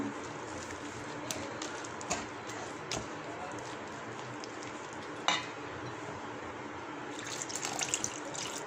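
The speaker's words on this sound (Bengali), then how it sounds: "অল্প অল্প করে পানি দিতে হবে, একসাথে দেওয়া যাবে না।" Water trickles and splashes steadily into a bowl of flour for paratha dough, with faint stirring and occasional soft knocks, then a brief louder clatter near the end.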